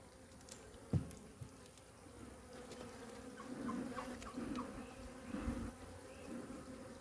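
Honeybees buzz around an open hive while frames are handled during beekeeping, a faint, wavering hum that rises and falls, with a sharp knock near the start.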